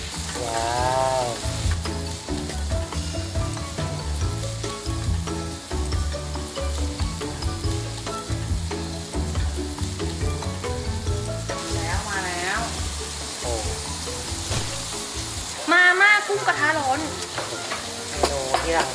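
Butter-grilled shrimp sizzle and crackle steadily in a hot pan, with bright, continuous frying hiss and occasional stirring clatter and lowing animals in the background.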